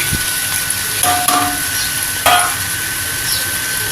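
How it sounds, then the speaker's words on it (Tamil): Three-colour capsicum goes into a pan of Maggi noodles frying on the stove, giving a steady loud sizzle with a couple of brief stirring scrapes and clinks. "இப்போ நான் அந்த கேப்சிகம் போட்டுக்கிறேன் மூணு கலர் கேப்சிகம்"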